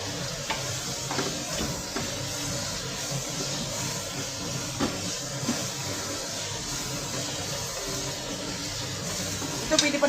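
Onion sizzling and frying in a pan as the base for spaghetti sauce, a steady close crackle with occasional stirring scrapes throughout.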